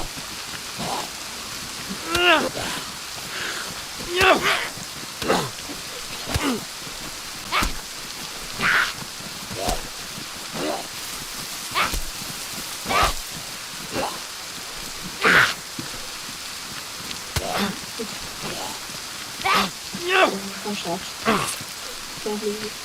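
Steady rain patters across a DayZ landscape, a dense even hiss punctuated by repeated louder spatters and thumps, moderately loud and continuous throughout with no talking.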